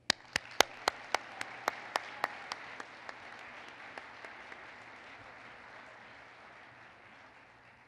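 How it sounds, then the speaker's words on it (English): An audience at a housing conference keynote applauds an award recipient, starting with a few loud, distinct nearby claps over a broad wash of clapping that gradually fades away. "Please join me in a round of applause for HDC as MSHDA's 2011 Housing Counseling"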